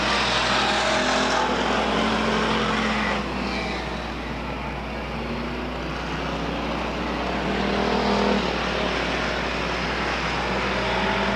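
Race cars circle the oval at Stockton 99 Speedway in 2001, their engines a continuous distant roar that swells and fades as the pack passes, with no talk over it.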